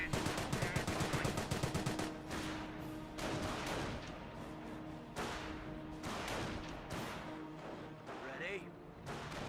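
Gunfire rattles across a Company of Heroes battle as a Grenadier carrier pushes forward to engage a G43 squad, with bursts of shots and distant thumps running throughout under a continuous commentating voice.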